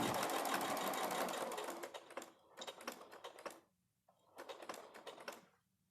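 Sewing machine with a walking foot stitching binding through quilt fabric and batting, running in a long steady burst, then two shorter stop-start runs close by, with no talk.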